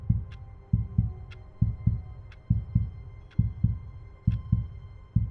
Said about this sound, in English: I don't know if you hear the heartbeat. That's my stream deck.